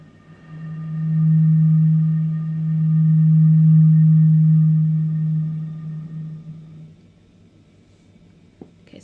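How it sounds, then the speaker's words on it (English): Breath blown across the mouth of a bottle with pursed lips, producing one steady, low, hollow tone that swells, dips briefly and swells again, then fades out after about six seconds, clear and alone. "if you think about the fact that you want to make a sound out of this bottle, you need to purse your lips"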